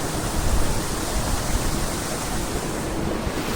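A waterfall in a rocky valley roars as a steady, broad rush of falling water, loud and unbroken throughout with no voices.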